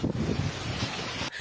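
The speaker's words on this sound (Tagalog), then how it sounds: "Nagngangalit din ang dagat sa Virac." Rough, roaring sea waves churn under strong wind buffeting the microphone during a typhoon in Virac, Catanduanes, Philippines, a steady stormy rush with no voices.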